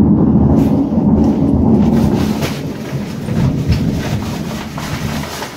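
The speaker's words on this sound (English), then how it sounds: "Listen for the thunder." Nearby thunder rolls as a loud, deep, continuous rumble outdoors during a storm, heaviest at first and then easing slightly while still grumbling steadily.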